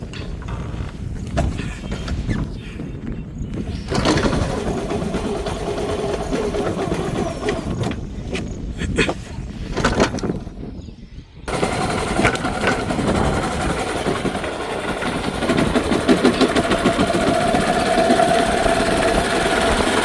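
A low-maintenance vehicle's engine, once seized and since repaired, runs steadily on the way to a farm. The close, continuous rumble dips briefly partway through, then resumes with a rougher, slightly louder drone, and no one talks.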